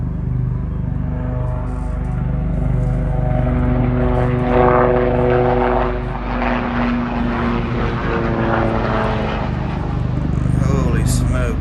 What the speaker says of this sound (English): Comes a helicopter.